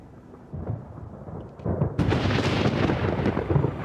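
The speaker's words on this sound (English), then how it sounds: "a violent storm blows into the canyon" A violent thunderstorm rolls into a canyon, with rumbling thunder building into a loud crack and heavy, continuous rain and roar, close and without voices.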